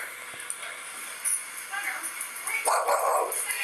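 A dog whimpers and gives high yips at a bakery, close by, in short bursts while people talk warmly over it.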